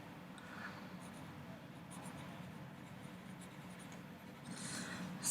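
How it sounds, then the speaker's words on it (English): A pencil drawing on paper, a soft continuous scratching and rubbing of graphite strokes, faint and close, with no talk. "I'm holding a pencil, which means we're gonna draw."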